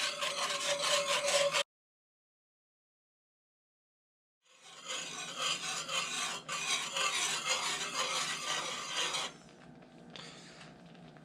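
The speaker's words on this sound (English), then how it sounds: "We're just going to keep whisking this in until it starts to bubble" A whisk scrapes quickly around a pan of cheese sauce for smoked mac and cheese, close rasping strokes in bursts separated by a few seconds of silence, no one speaking.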